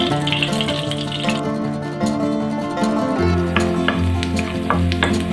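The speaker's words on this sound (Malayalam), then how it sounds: "2 ടേബിൾ സ്പൂണ് നെയ്യ് വെച്ചിട്ട് അണ്ടിപ്പരിപ്പ് മുന്തിരി നെയ്യ് വറുത്ത് പോകാം." Cashews and raisins fry in ghee for a payasam with a close, crackling sizzle under a stirring spoon, while a steady musical backing plays throughout.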